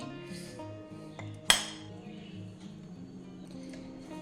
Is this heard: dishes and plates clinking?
yes